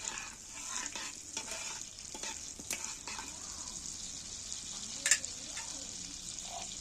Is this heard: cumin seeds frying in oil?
yes